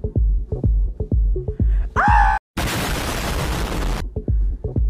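A grenade goes off in the VR bouncer game I Am Security at a nightclub door: a rising whine, a brief silence, then a loud burst of roaring noise lasting over a second, with a thumping club beat before and after.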